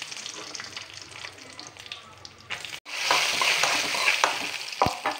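Ghee sizzling in a hot pan, a steady bright crackle that swells louder after a brief cut, with occasional stirring scrapes and clicks.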